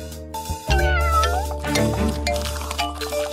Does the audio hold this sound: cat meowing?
yes